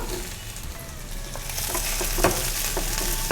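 Ginger and garlic sautéing with chopped broad beans in a pan for a thokku, a steady close sizzle with occasional stirring scrapes and clinks growing busier toward the end.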